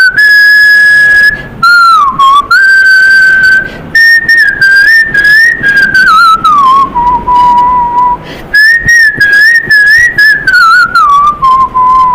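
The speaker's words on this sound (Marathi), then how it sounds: "मी शिट्टीतून गाणं म्हणून दाखवणार." A person whistles a song with a clear, loud, close melodic line that moves up and down through sustained and gliding notes, pausing briefly between phrases.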